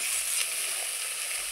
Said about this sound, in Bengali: এই পেঁয়াজটাকে আমি খুব সুন্দর করে কষিয়ে নেব।